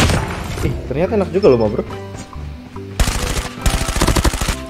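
Gunfire in Call of Duty Mobile, heard as rapid bursts of automatic shots, loud and close, that arrive in clusters after a stretch where someone talks casually over game sounds.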